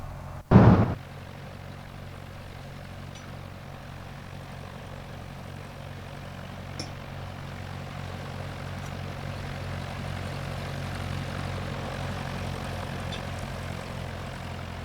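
Light aircraft engine droning steadily while taxiing in the X-Plane flight simulator, a low continuous hum after a brief loud thump at the start.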